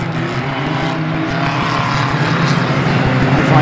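Saloon stock car engines roar loudly and continuously as the cars race past at Mildenhall, a droning, building rumble with a commentator's voice faintly underneath.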